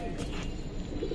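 A Silver Military (Army) breed pigeon coos softly and continuously at close range amid busy background noise.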